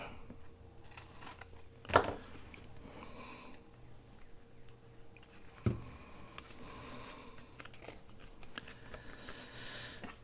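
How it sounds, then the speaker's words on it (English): Scissors trimming excess material for a corner tuck pocket, two distinct close snips a few seconds apart over quiet handling and rustling. "And I'm going to cut that little tip off, just like that."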